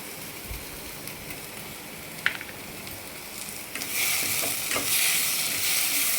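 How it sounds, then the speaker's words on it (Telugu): Green chillies fry in a pan for a mushroom curry, a soft steady sizzle with occasional stirring scrapes and clicks that swells into louder, brighter crackling partway through. "పచ్చిమిరపకాయలు కూడా వేయించాను,"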